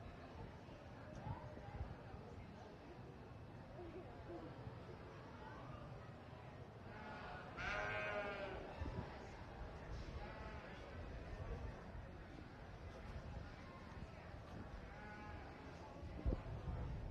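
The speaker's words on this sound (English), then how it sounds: "Marin, what's the sheep say?" Sheep bleat at a county fair sheep show, one clear bleat rising midway through a busy, reverberant arena full of crowd chatter and announcements.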